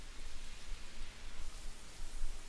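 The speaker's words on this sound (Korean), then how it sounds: "오늘이 지금 비가 엄청 내리고 있습니다. 그래서 빗소리가 듣기 좋아서 일부러 문을 열어놓고 이렇게 찍고 있습니다." Heavy rain pours outside an open door, a thick, rushing wash of drops with gently swelling intensity, heard from indoors as a steady, enveloping roar without speech.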